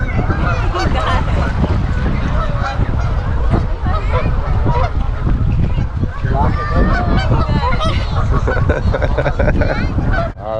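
Loud, continuous honking of white geese-like birds crowding to be fed beside Niagara Falls, with wind buffeting the microphone and people talking and coaxing the birds throughout.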